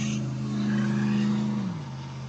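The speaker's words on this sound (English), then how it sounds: "Plenty of cars going by." Cars pass close by on a road near the Waycross rail line, a steady loud engine drone with harmonic hum that drops in pitch near the end as one vehicle moves away.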